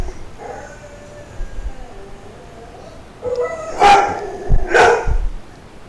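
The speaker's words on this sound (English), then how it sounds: "Dogs. Hey! Oakley, Paisley, knock it off" Dogs bark indoors, starting with whines and yips, then building to two loud, close barks near the end.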